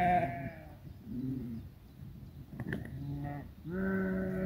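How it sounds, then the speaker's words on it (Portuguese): A sheep bleating several times in short wavering calls, fairly close and clear, with quiet gaps between each cry and one longer final bleat. "Uma ovelha se cansou de ser mandada o tempo todo e decidiu reagir."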